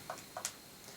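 A metronome set to 75 beats a minute gives a couple of faint, quick ticks in a quiet room, with no voice over them.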